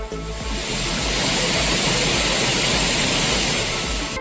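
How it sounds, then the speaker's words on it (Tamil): Courtallam's main waterfall, swollen with heavy rain, roars continuously as a dense, steady wash of rushing water, loud and unbroken from start to end. "ஆர்ப்பரித்து கொட்டும் அருவியில் குளித்து மகிழ்கின்றனா்"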